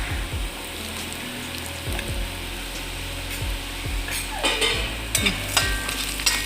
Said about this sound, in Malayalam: ഉള്ളി നന്നായിട്ട് മൂത്തു നമുക്ക് മുളക് ചതച്ചത് ചേർത്ത് കൊടുക്കാം